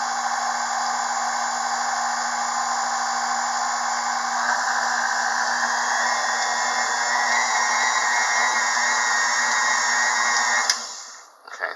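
An electric mixer beats yeast doughnut dough in a kitchen, a steady, loud, high motor whir that holds without a break for about ten seconds, then winds down and stops.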